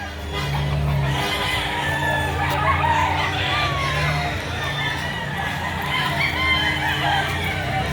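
A year-old stag rooster crows among other fowl at a Saturday chicken sale in Lipa, Batangas, heard under steady nearby chatter and crowd noise.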